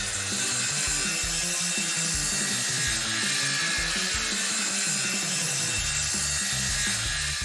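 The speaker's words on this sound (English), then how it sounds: "Sawing board!" A hand saw cuts through a wooden board in steady back-and-forth strokes, close and loud, with a continuous raspy rhythm throughout.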